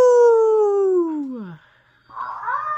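A voice imitates a wolf howl, with a single sustained, loud wavering cry that slides downward and fades, followed by a brief pause and a short rougher vocal burst.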